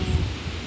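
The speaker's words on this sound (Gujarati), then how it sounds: "કેટલો બધો પવન આવે છે, જાણે કેમ" Strong wind buffets the microphone in a low, steady rumble, with a slight gusty swell near the start and no other clear sounds.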